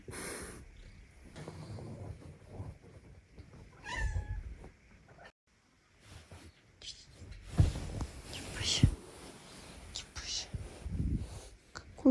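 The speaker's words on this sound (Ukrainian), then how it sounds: "Боже, котики з приюта такі милі." A shelter cat meows a few times in a quiet indoor room, the short calls fairly close and broken by soft rustling and handling noises, with brief low whispering nearby.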